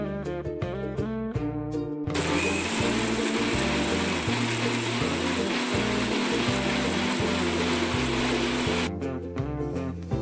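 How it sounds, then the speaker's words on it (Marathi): A kitchen mixer grinder whirs loudly as it blends watermelon juice ingredients with mint paste, starting after a few short bursts and running steadily for several seconds before winding down into brief pulses. "आता आपण हे सगळे जिन्नस एकत्र वाटून घेऊया।"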